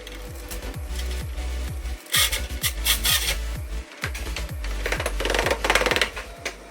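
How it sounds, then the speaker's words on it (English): Rough sanding with 120 grit sandpaper on a Tesla Model 3 collision repair area, a steady rasping scrape of repeated strokes, close and fairly loud, with brief pauses between passes and no talk. "The repair area is now rough sanded with 120 grit."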